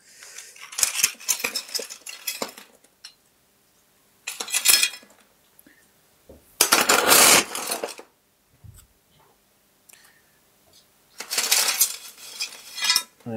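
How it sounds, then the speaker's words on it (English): Large pebbles clatter and rattle in four separate bursts as they are poured into an orchid pot during a Bratonia Aztec repotting, loud and close, with quiet pauses between pours. "So that's why I'm starting to use bigger pebbles for this one as well."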